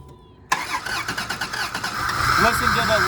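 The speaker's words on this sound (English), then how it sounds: "Listen to the unevenness compression. This runs good." A 1995 Dodge Caravan SE cranks and fires up after a brief quiet moment, then settles into a close, slightly uneven idle with a rough pulsing rhythm, while a voice talks over it.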